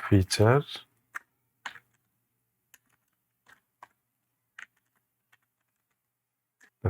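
Sparse, light clicks of typing on a computer keyboard, a few isolated keystrokes spaced irregularly in a quiet room, following a brief voice at the start.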